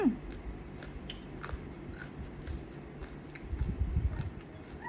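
Someone chewing crunchy dry food with a boiled beef dish and dipping sauce, quiet crisp bites and munching close up, slightly louder crunches toward the end.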